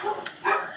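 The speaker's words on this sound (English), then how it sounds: "I apologize for dog barking in the background." Dogs bark indoors in the background as the mailman arrives, a couple of short muffled yips and barks over low room noise, brief and moderately faint.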